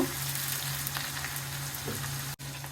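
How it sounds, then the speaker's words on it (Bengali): Onions frying in a pan, a steady broadband sizzle with a low hum underneath, continuous at moderate level with a brief dropout near the end, no speech. "পেঁয়াজগুলো এখন আমি একটু ভেজে নিব।"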